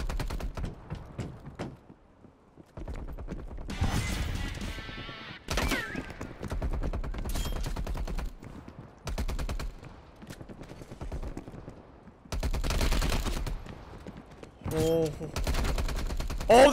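Repeated bursts of automatic gunfire in the video game Prop Hunt come in rapid, clipped volleys separated by brief pauses, loud and close throughout the stretch.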